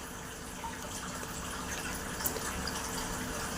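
Water flows and trickles steadily in a fish aquarium, a soft, even gush with no pauses across a few seconds, fairly faint and close.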